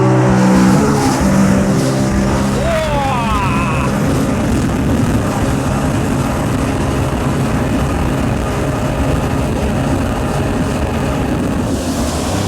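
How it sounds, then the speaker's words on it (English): A Yamaha JetBlaster PRO personal watercraft's four-stroke TR1 engine revs up sharply with rising pitch, then settles into a loud, continuous rumbling drone as it speeds away. "It's got that rumble that I love from an engine. It's obviously 4-stroke"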